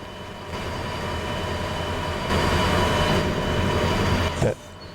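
A locomotive running in the train game Derail Valley, a steady rumbling engine and rail noise heard close up, growing louder midway and then dropping off abruptly near the end.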